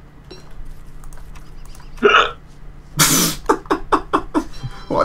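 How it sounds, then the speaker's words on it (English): A sharp hiccup sounds once, then a quick run of short, clipped vocal bursts follows, close and loud over a quiet game background. "That was me. Just a hiccup."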